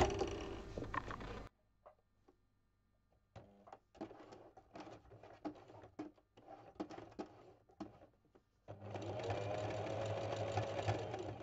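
A sewing machine zigzag-stitches in free motion embroidery, running loudly and steadily at the start and again at the end, with a stretch of irregular clicks and small knocks between and a brief word spoken.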